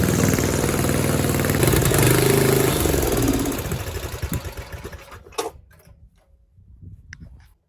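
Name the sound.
snowblower engine running until out of fuel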